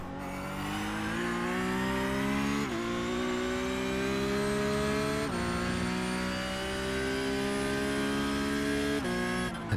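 A racing car driven on a track in a motion-rig simulator game, its engine whining steadily through the gears with three sharp shift drops and rising revs between them, continuous and fairly loud with no talking.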